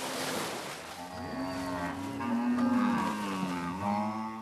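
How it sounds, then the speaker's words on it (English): A herd of about 2,000 cattle is driven through a weekly tick dip. Several animals moo in long, overlapping, drawn-out calls, growing louder midway over a wash of splashing water, with no talk. "As a precaution against ticks that cause fatal disease, Shewa's cattle must be put through the dip once every week"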